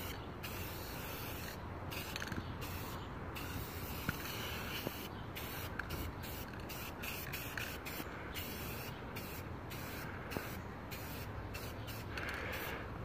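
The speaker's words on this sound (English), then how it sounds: "now I'm applying the black gloss enamel." Black gloss enamel hisses from a spray can onto a primed cast iron park bench, a close steady spraying sound broken into repeated bursts with short pauses between passes.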